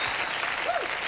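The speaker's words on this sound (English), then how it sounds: "See, even parents clapping" A television studio audience at a 1991 talk show claps in a dense, sustained burst. A brief voice can be heard over the applause.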